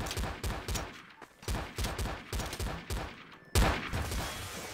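Rapid bursts of video game gunfire in a shooter where players fight manhacks, volleys of close, loud shots in quick rhythmic succession ending with one heavier blast near the end.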